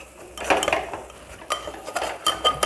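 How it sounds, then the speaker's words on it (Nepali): Masala for a Nepali-style mutton curry is stirred and fried in a pan, with a utensil clinking and scraping against the metal in irregular bursts. No one speaks. "अब चाहिँ यो मसला चाहिँ भुट्ने, मजाले भुट्ने"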